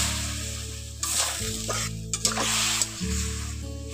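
Cabbage and potatoes sizzle loudly in a pan as a little water is added, a bright hissing burst that rises and falls with stirring, with no one speaking.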